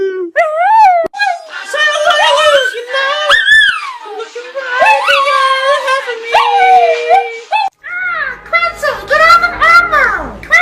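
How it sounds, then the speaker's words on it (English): Dog loudly yowls, howls and whimpers in rising and falling vocal bursts, close and nearly continuous, with a voice mixed in. "No barking!"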